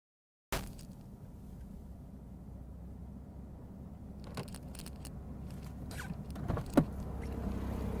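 A non-turbo sports car with its rear wing fully raised pulls out of a driveway. A faint, low engine hum runs throughout, broken by a few mechanical whirs and clunks.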